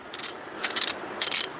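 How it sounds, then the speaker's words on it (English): A cheap 90-tooth ratchet clicks in three quick bursts of fine, rapid clicks, close up and crisp, with short pauses between them. "But look at this ratchet. It's a cheap ratchet."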